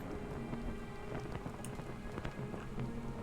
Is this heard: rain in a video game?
yes